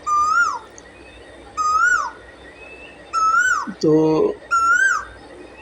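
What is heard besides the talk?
Asian koel calling from a tree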